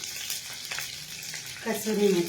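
Cumin seeds and kasuri methi frying in hot oil give a steady crackling sizzle, with a brief stir and a voice rising over the frying toward the end.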